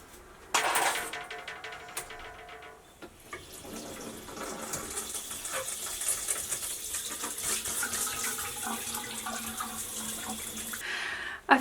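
Water runs steadily from a tap while hair is rinsed out to remove gel and hairspray, a continuous close splashing flow with brief clatter at the start, before henna dyeing.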